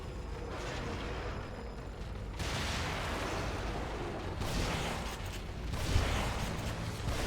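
Grenade blasts from The Evil Within game combat, rumbling bursts with sharp onsets near 2.4, 4.4 and 6 seconds, loud and broad over a continuous noisy background.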